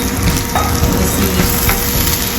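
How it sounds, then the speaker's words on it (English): Mushrooms and thawed frozen peas sizzle and crackle in a hot pan for egg fried rice, with scraping stirring strokes and light clicks over a steady, close frying hiss. "you can just give it a little stir, because the peas are already cooked"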